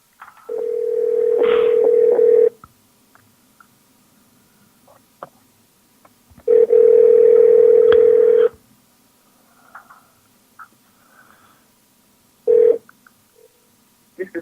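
A telephone rings in two long electronic bursts separated by a pause, with a brief third tone near the end; quiet clicks in between.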